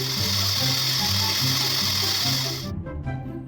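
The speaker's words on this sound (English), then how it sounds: "now I will slowly and meticulously go to work on this guy with a wire wheel and a sanding disc." A wire wheel and sanding disc whir and grind against aluminum in a steady, buzzing drone that cuts off abruptly near the end, leaving a quieter tail.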